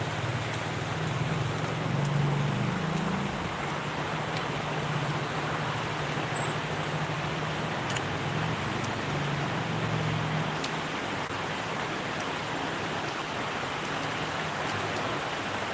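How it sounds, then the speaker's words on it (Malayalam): Heavy morning rain pours steadily in Kerala, a dense, even hiss throughout with a low hum underneath for the first part and no voices. "ഇപ്പം മഴ"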